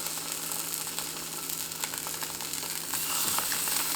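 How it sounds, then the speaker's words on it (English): Tofu slices searing in a hot non-stick pan, a close and steady sizzle that holds constant and grows slightly louder toward the end. "So we've got a non-stick pan here heating up, and then I'm just gonna add in a couple slices of tofu."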